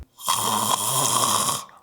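A voice imitates open-mouth snoring with one long, rattling, raspy breath, loud and close, lasting under two seconds.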